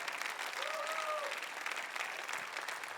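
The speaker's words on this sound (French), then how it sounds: "Voulez-vous tout le monde applaudir" A church congregation claps together in a steady wash of applause, moderately quiet and distant, with a brief voice rising over it near the start.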